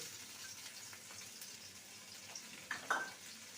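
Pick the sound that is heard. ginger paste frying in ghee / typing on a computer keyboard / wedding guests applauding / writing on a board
ginger paste frying in ghee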